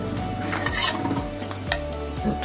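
Bread toasting on its second side in a pan gives a soft steady sizzle, broken by light scraping and clinking of a utensil against the pan.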